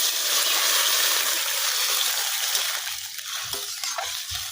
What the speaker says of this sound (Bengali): এখন আমি এই গরম জলগুলো দিয়ে দেবো।